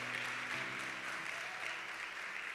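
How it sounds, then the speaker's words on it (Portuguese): A church congregation applauds during a worship service, giving a steady wash of clapping from many hands, fairly distant and soft, continuing without a break for a few seconds over a low hum. "aplauda Jesus aí no seu lugar"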